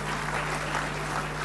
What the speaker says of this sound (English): Could you please clap for this man?